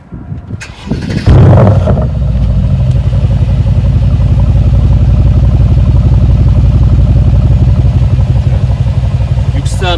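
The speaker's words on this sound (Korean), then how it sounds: "S AMG 차량의 배기음을 듣고 계십니다" Tuned exhaust of a Mercedes-AMG GLC 63 S 4MATIC coupe fires up with a sharp starter crank, then settles into a loud, steady, deep burbling idle close by, with faint talk at the start.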